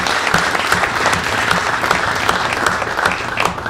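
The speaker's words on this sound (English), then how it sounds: "Let's give them a round of applause." A crowd at a Duluth craft beer panel applauds the local breweries, a steady, fairly dense round of clapping with some sharper individual claps standing out, sustained for several seconds.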